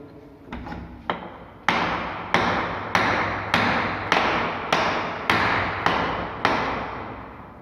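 Hammer blows knocking the end cover off an electric motor in an electrician training workshop: about a dozen sharp, ringing metallic strikes at a steady pace, close and loud, with no talking.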